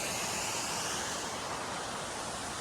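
The Chigoli waterfall in the foggy Chorla ghat, Goa, gives a steady, faint broadband rush of falling water with no breaks, heard alone.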